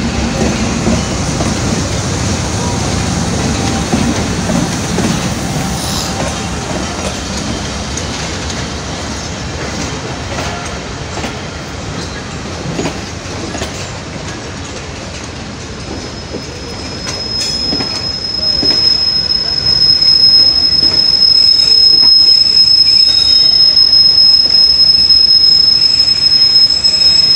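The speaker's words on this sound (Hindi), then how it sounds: "पिशावर छावनी से चल के कराची कैंट जाने के लिए 14 डाउन अवाम express Drigh road railway station में अप्रोच कर रही है।" The 14 Down Awam Express, hauled by locomotive 6017, pulls into Drig Road railway station with loud, continuous rumbling and rolling wheels, then a sustained high-pitched wheel squeal as it slows, with no voices.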